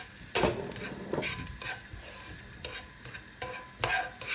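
Onions, chili pepper and thyme sizzle in butter in a pan, a steady frying hiss broken by several brief stirring scrapes and clatters, close and moderately quiet, with no talking.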